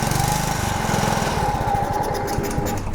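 Honda 21-inch self-propelled walk-behind lawn mower engine running at a loud, steady high rev, close up, with a dense continuous drone and no talking.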